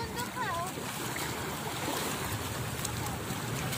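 Sea waves wash steadily onto a beach in a continuous broadband roar, with people talking and calling out near the start.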